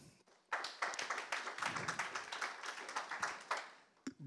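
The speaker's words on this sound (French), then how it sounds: "On peut l'applaudir" An audience at a digital-industry talk applauds, a faint but continuous patter of many hands clapping for roughly three seconds, tapering off near the end.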